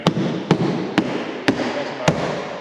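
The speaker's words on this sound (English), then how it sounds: "I'm just going to make a bit of noise here and do a bit of banging." Five loud, sharp bangs struck at a slow, roughly even pace on a 15-foot off-road touring caravan's 33 mm fiberglass composite skin over an aluminium frame, each hit ringing briefly.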